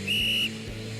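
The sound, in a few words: coach blowing a whistle in a video game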